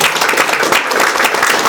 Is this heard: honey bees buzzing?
no